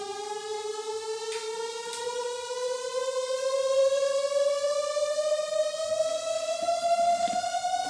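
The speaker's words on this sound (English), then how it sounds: "It's just a riser." A smooth synth tone glides steadily upward in pitch over eight seconds, rich in harmonics, building gradually with no other sounds.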